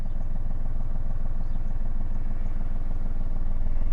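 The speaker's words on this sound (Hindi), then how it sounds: "एक पॉइंट आया जहां पे मेरी गाड़ी का साउंड थोड़ा सा और हेवी हो गया" Car engine idling steadily as the clutch is slowly let out, the low mechanical note growing a little heavier and more laboured while the car strains to creep forward, close and continuous with no talk.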